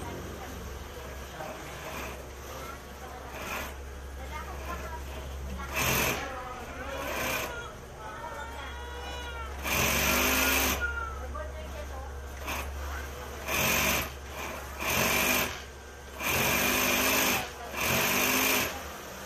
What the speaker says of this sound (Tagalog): kung okay ba yung tahi ng ating kinonvert na makina na double needle